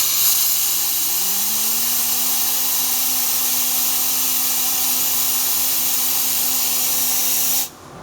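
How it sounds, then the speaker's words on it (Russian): A turbocharger turbine on a balancing machine is spun up by a jet of compressed air, loud steady hiss with a rising whine that climbs and holds a high pitch, then cuts off abruptly near the end. "Увеличиваем немножко давление. И наставляем это на турбину и по звуку определяем наилучшие обороты."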